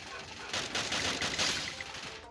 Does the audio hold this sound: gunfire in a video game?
yes